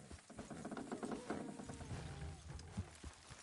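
Horse hooves clip-clopping steadily at close range, mixed with mechanical rattling and clanking, in a continuous busy scene.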